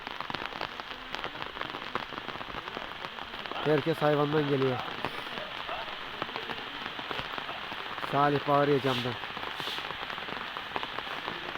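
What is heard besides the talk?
rain falling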